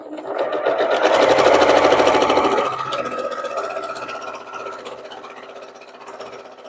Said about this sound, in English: sew them into pairs, just like this